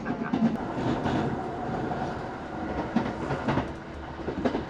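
A JR limited express train runs past on a Japanese railway line near Nagoya, a steady rumbling roar of wheels and carriages with faint rhythmic clatter, loud and continuous throughout with no talk.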